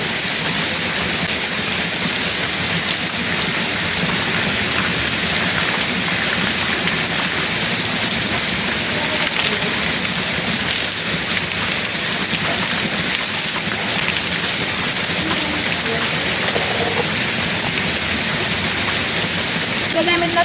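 Spring water pouring continuously during a bath, a loud, dense splashing rush that holds steady throughout with no pauses.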